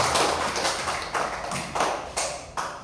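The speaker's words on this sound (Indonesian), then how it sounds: "kasih tepuk tangan dulu sama" Students in a classroom give a short round of applause: several quick bursts of clapping with strong, close slaps, without talking over them.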